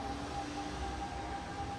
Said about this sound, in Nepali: एउटा ट्रेन त आइसक्यो होला।